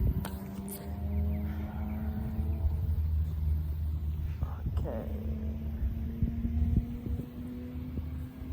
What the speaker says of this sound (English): Sounds like a BMW.